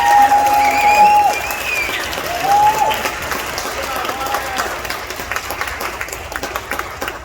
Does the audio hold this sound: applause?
yes